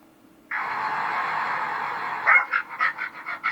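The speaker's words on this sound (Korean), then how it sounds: "여기 지금 짖는 소리까지 원래 나오거든요" A dog barks in an animated clip on a website, played back through speakers: a long, steady tonal whine followed by a quick run of about seven short, yappy barks, close and fairly loud.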